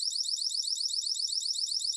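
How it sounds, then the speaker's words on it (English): A wireless alarm system siren, triggered by a motion detector, warbles shrill, high-pitched and rapid, loud and unbroken. "let's activate the wireless alarm system and see if an alarm is triggered via the motion detector"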